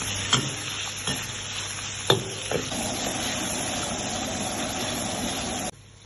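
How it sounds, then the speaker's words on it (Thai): Squid pieces coated in corn flour deep-fry in hot oil with a steady, even sizzle. A few sharp clinks of a utensil come first, then an unbroken frying hiss before it cuts off near the end. "อ่าขั้นตอนแรก เดี๋ยวมาทอดปลาหมึกก่อนนะครับ"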